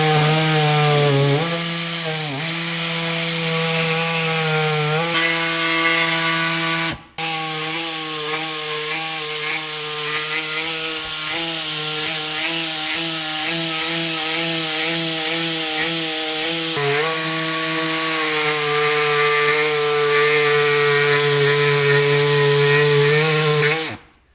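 A power saw cuts wood for organizing the cargo area of a JL Jeep Wrangler, running as a loud, sustained, close high-pitched whine with a steady buzzing tone, briefly dipping once before continuing through the cut.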